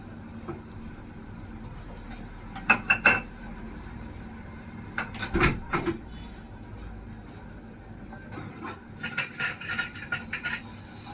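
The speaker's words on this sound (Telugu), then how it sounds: "సో ఈ గిన్నెలన్నీ క్లియర్ చేసి ఈ స్టవ్ మీద ఉన్నవన్నీ కూడా ఇప్పుడు క్లియర్" Dishes, pots and pans being washed in a home kitchen, with scattered clinks and clatters of metal and crockery coming in short bursts over a steady background hum.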